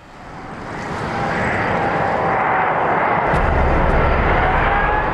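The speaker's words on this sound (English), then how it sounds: "Touchdown, the earth-shattering collision of wheels and tarmac." An Airbus A380 airliner touches down on the runway with a loud, sustained jet roar that swells within the first second and holds, joined partway through by a deeper rumble.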